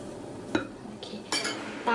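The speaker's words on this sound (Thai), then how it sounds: "ตะล่อมให้เข้ากันนะคะปาดให้ถึงก้นอ่างขอบอ่างปาดให้หมดนะคะ" A spatula folds lemon poppy seed cake batter and scrapes the bottom and sides of a mixing bowl, making a few soft scraping strokes and light clinks against the bowl, close and fairly quiet.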